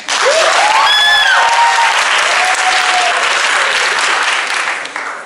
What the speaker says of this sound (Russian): Где аплодисменты?